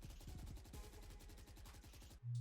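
Rapid automatic gunfire from a weapon in the tactical shooter Valorant, a dense rattling burst of shots lasting about two seconds, loud and close, ending abruptly in a short low tone.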